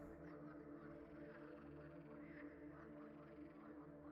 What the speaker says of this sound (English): I like this frog music we got going on.